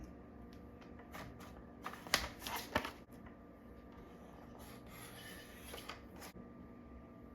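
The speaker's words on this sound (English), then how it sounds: "we'll go ahead and cut it" Scissors or a trimmer cut through a laminated sheet fresh from a Raycial laminator, giving a few close, soft snips and crinkles in a quiet room, the loudest cluster coming a couple of seconds in, then lighter rustling.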